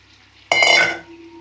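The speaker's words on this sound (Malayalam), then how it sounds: "നമുക്കിനി ഈ അരി ഒന്ന് ഇളക്കി കൊടുക്കാം കേട്ടോ" Dry rice for chicken biryani, with no water added yet, is stirred in a pot: a single short metallic scrape and clatter, followed by a quiet, faint hum.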